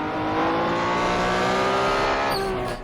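A Porsche race car engine screams in a 1964 World Sportscar Championship race at the Targa Florio in a racing video game, a loud sustained high-revving whine close by, holding steady with a brief shift near the end.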